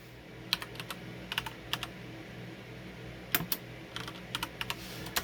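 Keystrokes on a computer keyboard entering a command at a disk setup prompt, in several short quick bursts of clicks separated by pauses, close and fairly quiet with no talking.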